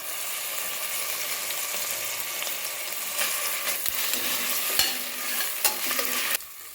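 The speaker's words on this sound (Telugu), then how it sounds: "తర్వాత అల్లం వెల్లుల్లి పేస్ట్ వేసుకోవాలండి" Ginger garlic paste stirred and frying in a pan for vegetable biryani: a steady close sizzle with scraping stir strokes throughout, growing busier toward the end, no voices.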